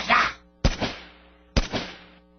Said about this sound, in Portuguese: A arma desferiu 2 tiros